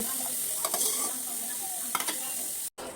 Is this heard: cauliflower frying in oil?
yes